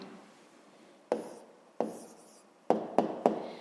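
Pen strokes of a hand writing an answer during a fifth-grade maths exercise, a handful of short scratchy bursts and taps separated by pauses, close and fairly quiet.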